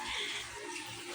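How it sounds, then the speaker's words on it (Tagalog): Milkfish (bangus) rinsed under running tap water, a brief, steady splashing gush close by. "Hugas-hugas bangus. Hugas isda, hugas bangus."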